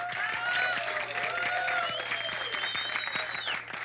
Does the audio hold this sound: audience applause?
yes